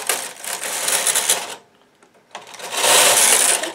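Knitting machine working a small Christmas stocking, the carriage pushed across in two loud, close, rattling passes with a short quiet gap between them, and no talk.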